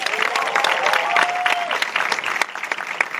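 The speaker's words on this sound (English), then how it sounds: "can y'all please give them a round of applause" Audience at a media screening in Atlanta with cast and director present breaks into loud, dense applause and cheering, a whoop sliding across the clapping, before it thins near the end.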